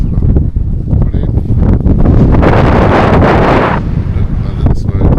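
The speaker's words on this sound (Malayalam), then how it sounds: "കാറ്റ് കണ്ടല്ലോ, ഈ കാറ്റിൽ ഇങ്ങനെ നടക്കുമ്പോൾ എന്നെ രസമാണെന്നറിയാം" Strong wind on a hilltop at Panchalimedu blasts across the microphone in loud, buffeting gusts with rustling underneath, swelling into a sustained roar midway before easing.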